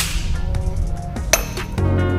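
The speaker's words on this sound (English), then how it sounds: "I'm using the square as a hammer now" A metal square used as a hammer strikes a pipe fitting during socket weld work at a field rig, with a few sharp metallic clinks and one bright ringing tap over steady background noise.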